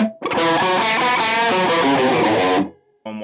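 Electric guitar played through a Kemper vintage chorus with the rate set too high, giving a loud, warbling, distorted chord that rings for over two seconds before stopping abruptly, then a new note begins.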